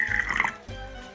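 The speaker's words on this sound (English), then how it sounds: "The first step is to pour water into the glass." Water pours into a drinking glass for a kitchen science experiment, a close trickling stream for about half a second, then quieter dripping and settling.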